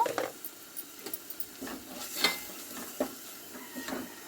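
Ground coriander, cumin and other spice powders being fried in oil in a pan for a Bengali fish curry, with soft sizzling under scattered clinks and scrapes of a stirring spoon, close and fairly quiet, no talk.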